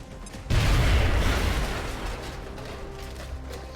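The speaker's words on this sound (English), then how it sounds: "Grenade out." A grenade blast in the XCOM Long War strategy game gives a single heavy, booming burst that swells suddenly and fades into a rumbling tail, with no talk over it.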